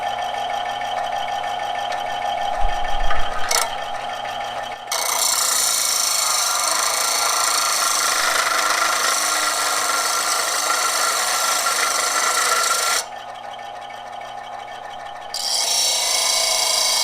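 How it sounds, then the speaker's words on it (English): A belt sander grinds a stainless steel exhaust part for a CX500 motorcycle build. A loud, steady rasping whine runs for about eight seconds, drops briefly and then starts again, with a short clatter near the beginning. "I'm just gonna run this through the belt sander real quick."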